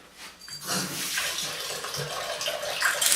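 Tap water running over a hand being rinsed in a kitchen while steak is prepared: a steady, close splashing stream that starts after a brief pause and continues to the end, with no talk.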